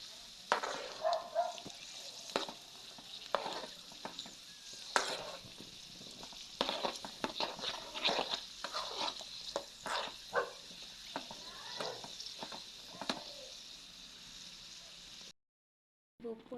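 Raisins for rice payasam sizzle in a pan as a spoon stirs and clatters against the metal in irregular close strokes, fairly soft, with a brief break of silence near the end.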